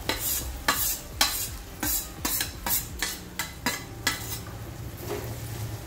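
Sliced bananas stirred in hot chili oil, a spoon scraping the pan in repeated strokes of clinking and scraping over a steady close sizzle, with no voices.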